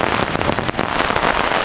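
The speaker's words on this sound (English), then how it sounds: "It's raining." Rain drums steadily on a tarp at a hiking campsite, a dense close-up patter and hiss that holds through the whole moment.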